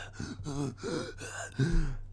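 A voice imitates asthmatic panting and wheezing, giving several quick, breathy gasps in an uneven rhythm. It sounds close but fairly quiet, with no talking.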